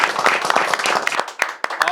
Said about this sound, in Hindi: ताली यार आपके लिए, ताली यार